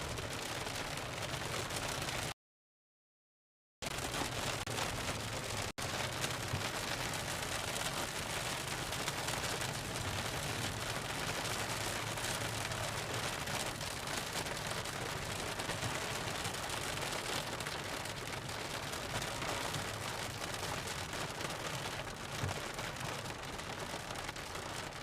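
Heavy rain falls steadily during a thunderstorm while storm chasing in Minnesota or Iowa, a dense continuous roar of drops with a brief dropout near the start and no speech.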